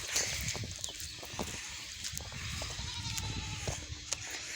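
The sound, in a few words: goats bleating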